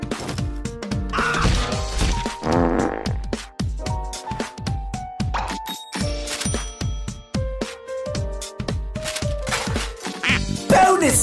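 Ducks quack loudly and repeatedly in a Team Fortress video game scene, rapid overlapping cartoonish quacks mixed with crashes, clatter and musical tones in a busy, chaotic stretch.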